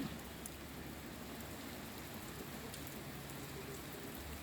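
Heavy rain pours down suddenly under a dark, cloudy sky, giving a constant dense hiss of drops on surfaces with no voices.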